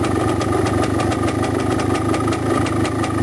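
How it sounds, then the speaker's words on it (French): A small carburetted engine idles steadily with a fast, even rhythm while its idle speed is raised and the carburettor air screw is turned fully in. The running is loud and close, with no voices. "Maintenant que la vis de richesse est vissée au maximum, j'accélère le ralenti."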